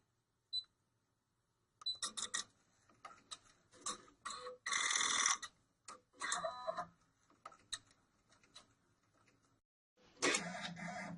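An embroidery machine stitches a glitter appliqué in short mechanical bursts of whirring and tapping, separated by quiet pauses, close by with no talking.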